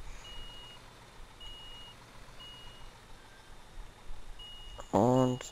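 Truck reversing beeps in the Bau Simulator 2015 construction game, a short burst of loud repeated tones arriving at the very end, after a long stretch of low engine rumble and faint game ambience.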